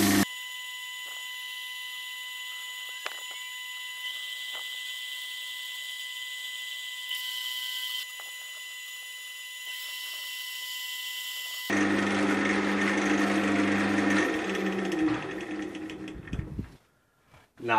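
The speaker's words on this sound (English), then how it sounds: "now I'm going to rub the abrasive in and sand it down" A resin and cork vase is rubbed and sanded with an abrasive wax polish: a steady, close mechanical whine with faint ticks runs for a long stretch, then gives way to louder, coarse broadband scouring that cuts off abruptly.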